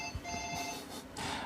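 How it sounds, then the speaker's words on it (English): A telephone rings indoors during a live jewellery-making session, its repeated electronic bell tones sounding steadily across the moment, fairly clear and with no talk over it. "I'm not going to answer the phone."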